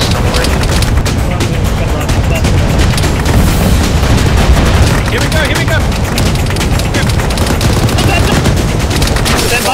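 Dense, continuous gunfire fills an Arma 3 firefight: rapid automatic bursts and heavy booms crowding together at close range, loud and relentless throughout with no pause.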